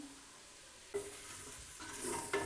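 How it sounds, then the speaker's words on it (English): Red chili, coriander and garam masala powders with a little hot water fry in a pan: a quiet, low hiss at first, then louder bursts of sizzling and stirring scrapes, close up, with no talking. "I'm just frying this up for a minute, less than a minute actually"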